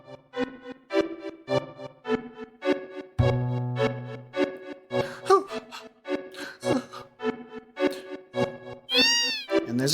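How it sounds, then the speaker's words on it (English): A cat in Final Fantasy VII meows over and over in short, regular bursts, close and clear, with one longer, higher wail near the end. "And there's a cat."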